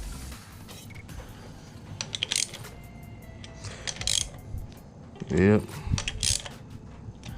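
Ratchet tightening fuel rail bolts on a Toyota 7M-GTE engine, producing intermittent metallic clicks and clinks of the tool and bolts in short bursts, with a brief spoken word in between.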